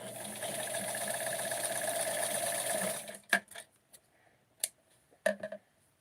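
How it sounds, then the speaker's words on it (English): A sewing machine runs a steady straight stitch close to the edge of small doll clothes for about three seconds, then stops, leaving a few short clicks and taps from handling the fabric. "for this one I am going to sew very close to the edge"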